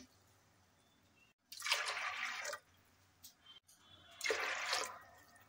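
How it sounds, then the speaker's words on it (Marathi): Water poured into a pressure cooker in a home kitchen, two separate splashing pours each about a second long, close and moderately loud, with quiet room noise between them. "पाणी घालायचं आहे"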